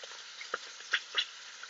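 Beef roast sizzling in an Instant Pot for a red wine roast, a faint, steady crackle with a few soft pops and hisses, heard alone at low level.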